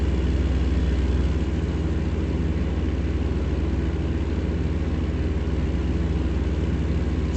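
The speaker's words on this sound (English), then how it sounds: "And look at the weird engine sounds." A car engine in American Truck Simulator hums at a steady, deep drone, continuous and even in level throughout with no speech.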